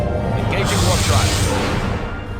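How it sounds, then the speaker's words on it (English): A starship's warp drive engages in Star Trek: Legacy, a rising hiss and whoosh that swells over the first second and then holds steady, loud and close. "Engaging warp drive."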